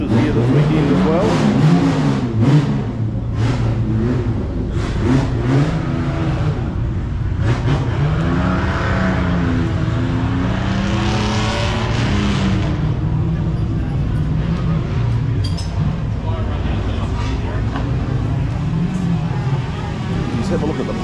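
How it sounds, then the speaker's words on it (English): Porsche race cars run on a track, their engines droning and revving with rising and falling pitch as they pass. The engine noise is loud and continuous, with a voice talking over it at times. "start your engine. The track is now open. Good selection of Porsches here this weekend as well."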